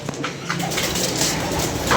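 A German pigeon coos in short, low throaty bursts close by, with rustling and other faint loft noises around it.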